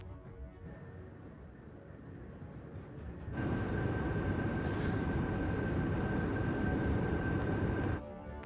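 An unidentified aircraft approaching fast in a movie scene: a low rumble swells abruptly into a loud, sustained jet roar with a steady whine, then drops back to a quieter rumble.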